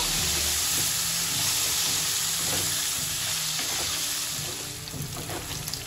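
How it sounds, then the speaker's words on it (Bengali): Potatoes and slit green chillies fry in hot oil with a steady, close sizzle and hiss, broken by soft stirring clinks, no talk. "এবার আমি আলু আর কাঁচা লঙ্কা ভালো করে একটু ভেজে নেব।"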